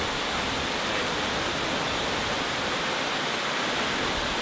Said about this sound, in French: Donc aujourd'hui, on est à la grande cascade de Chefchaouen.